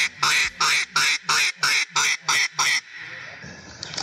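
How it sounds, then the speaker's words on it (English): Ducks quack loudly and close on a hunting outing, nine evenly spaced calls in a steady rhythm, then quieter outdoor background. "Ducks start coming."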